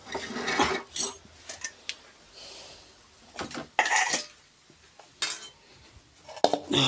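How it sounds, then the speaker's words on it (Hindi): Metal utensils scrape and clatter against a kadhai as cooked chowmein is moved across, a series of irregular close clanks and scrapes with quiet gaps between them, no talking. "इसको हम पलटी करेंगे चेंज करेंगे"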